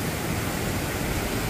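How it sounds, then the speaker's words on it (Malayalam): A waterfall in the Poovaranthod highlands near Kozhikode, heard as a dense, steady roar of rushing water, loud and unbroken, with no voices. "വെള്ളച്ചാട്ടം ഉണ്ട്."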